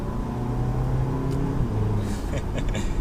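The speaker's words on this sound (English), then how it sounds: "while we're in sport mode, we'll downshift to third gear" A 2018 Porsche Macan in sport mode downshifting to third gear while driving, its engine note rising in a sustained rev with road and tire noise, heard from inside the cabin.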